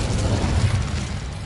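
The Incendio fire spell cast in Hogwarts Legacy gives a short, loud whooshing burst of flame with a rumbling low roar, filling the brief moment alone.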